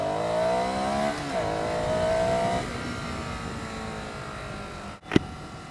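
A Ducati Scrambler Sixty2 400cc motorcycle revs up and pulls away from traffic lights, pitch climbing through a gear change, then a sharp click near the end.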